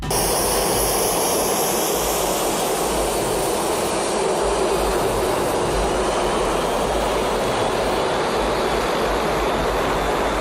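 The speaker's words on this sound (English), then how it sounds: "A small crowd gathers to watch a commercial airliner take off" A commercial airliner takes off while a small crowd watches, producing a continuous loud roar of jet engines with dense broadband noise and a whining tone that fades early on.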